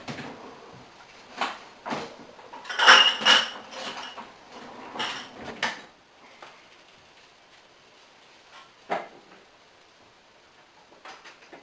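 Glass canning jars are packed with sweet pickle relish in a homestead kitchen: scattered clinks, knocks and scrapes, busiest and loudest early on, then fading to a few sparse taps.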